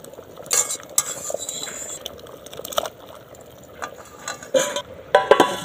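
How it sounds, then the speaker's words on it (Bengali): Potatoes, beans and carrots for a vegetarian winter khichdi are tipped into a pot, bringing clattering metal scrapes, wet splashes and a light sizzle in close, irregular bursts. "আলু, বিন, গাজর যে নেড়ে রেখেছিলাম দিয়ে দিচ্ছি।"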